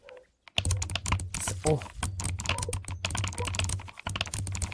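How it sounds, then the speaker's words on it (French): Stone keycaps clacking on a computer keyboard during an ASMR unboxing, rapid close typing clicks in an irregular stream, with a brief spoken exclamation at the start. "le bruit des touches de clavier"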